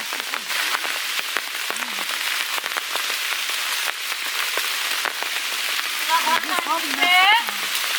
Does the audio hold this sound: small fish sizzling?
yes